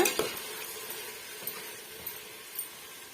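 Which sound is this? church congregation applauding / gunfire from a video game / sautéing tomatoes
sautéing tomatoes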